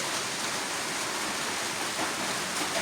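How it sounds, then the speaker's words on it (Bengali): Steady rain pours down in a village, a dense, even hiss of drops on surfaces filling the whole stretch with no pauses or voices. "এখনো বৃষ্টি পড়তে আছে"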